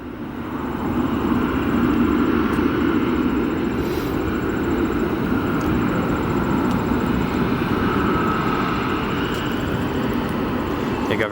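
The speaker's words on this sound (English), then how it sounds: "This A350 arriving from Munich after a 9-hour flight into O'Hare." A Lufthansa Airbus A350 arrives at Chicago O'Hare airport, its jet engines roaring as a loud, steady broadband rumble that holds for several seconds, heard from nearby outdoors with no talk.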